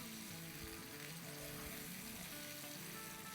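Cucumber, green chillies and garlic sauté with vinegar in a pan, giving a steady, close frying sizzle that runs unbroken and fairly soft throughout, with no voices.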